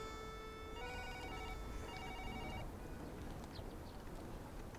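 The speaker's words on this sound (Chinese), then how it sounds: "电话响了，可能是我阿姨打来的" A telephone rings in a small apartment, its electronic trill repeating in two short bursts over a steady background hiss, with no voices.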